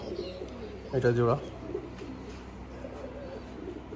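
A Giribaj pigeon coos once in a brief, throaty burst over a steady background hum, with a voice speaking nearby at a pigeon farm.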